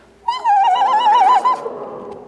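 A crowd of human voices imitates a screech owl's whinny together, a single loud wavering, trilling call lasting just over a second that trails off quickly.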